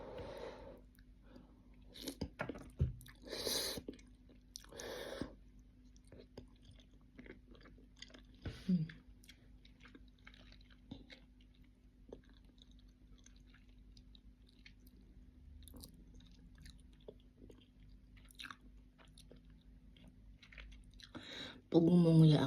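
Ramen noodles being chewed and slurped close to the mouth, wet squishy bites in uneven bursts separated by quiet pauses, ending in a louder burst.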